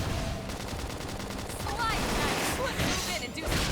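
A flame grenade attack goes off in Xenoblade Chronicles X, heard as a dense, sustained burst of crackling, explosive bursts layered with battle effects and a faint voice underneath.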